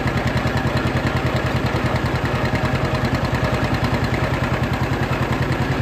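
A John Deere 50 tractor engine runs in the field, loud and close, with a steady, even chugging rhythm that continues throughout.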